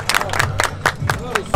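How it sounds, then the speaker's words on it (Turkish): A few people clap for a drag racing car at a drag racing event, giving scattered, uneven claps close by with people talking over them. "Bana şu arabaya bir alkış alalım."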